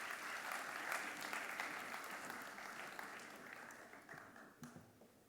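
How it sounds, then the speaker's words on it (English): Sustained audience applause welcoming a speaker to an inaugural address at a formal Mumbai conference, a steady wash of clapping from a large crowd that thins slightly toward the end. "Could you please welcome Mr. Godrej with a huge round of applause?"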